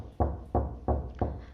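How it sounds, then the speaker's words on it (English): Someone knocks on a door four times in a steady, evenly spaced rhythm, each knock a solid, close, low thump standing alone without any talking. "Knocking on the door."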